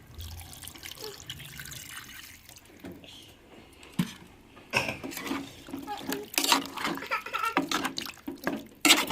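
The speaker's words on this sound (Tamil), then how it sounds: "தேவையான தண்ணி ஊற்றி கொஞ்சம் நேரம் அவிய விட்டுக்கிறோம்" Water pours and splashes into a pot of beef curry, starting soft and growing louder with clattering and sloshing toward the end.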